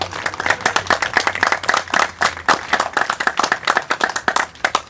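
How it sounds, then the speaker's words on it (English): An audience at a press conference applauds with steady, moderately loud clapping from a modest crowd, lasting about five seconds with no talking over it. "So let's give them a round of applause."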